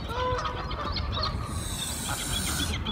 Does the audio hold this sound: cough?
no